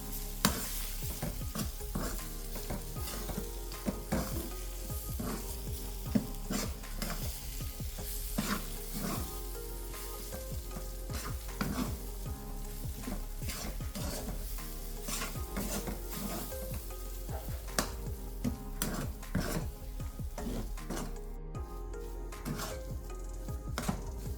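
Ground soaked dal stirred and sautéed in oil over low heat in a pan for a Ganesh Visarjan prasad, with a steady sizzle and frequent scraping stir strokes and light utensil clinks throughout, no talk.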